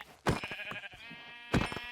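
Sheep bleat in a blocky survival video game, two short, close bleats separated by a pause, with faint game sounds between them and no talk.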